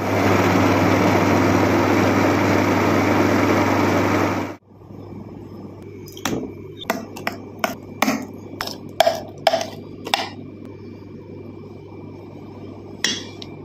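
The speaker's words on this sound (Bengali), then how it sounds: "এবার ডালটাকে মিক্সির সাহায্যে প্রথমে বেটে নিচ্ছি" An electric mixer grinder grinds soaked urad dal with a loud, steady, close whirring roar for about four and a half seconds, then cuts off abruptly, leaving scattered light clicks and knocks.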